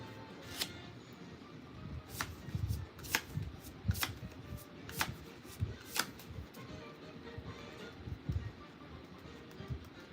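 Playing cards riffled and shuffled in a series of sharp, crisp bursts repeating every second or so over a low, busy background rumble at close range.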